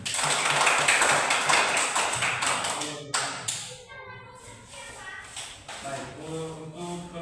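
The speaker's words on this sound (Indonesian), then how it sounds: "Jadi kita berikan tepuk tangan untuk mereka." A classroom group claps for fellow students after a discussion presentation during a teaching practice session, brisk close-up clapping that fades and thins out midway, with some shuffling and low voices underneath.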